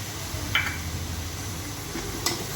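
Onion frying in a pan with browned ginger and coriander, a soft steady sizzle with two brief metallic clinks of a spoon against the pan.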